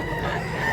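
A rooster crows continuously at close range, its call loud and steady across a brief moment with no talk over it.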